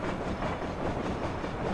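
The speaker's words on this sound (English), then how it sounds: "the train can overrun these guys" A train rolling along in the Sly Cooper: Thieves in Time video game set in the Old West, a steady close rumble with faint rhythmic clatter and no voices.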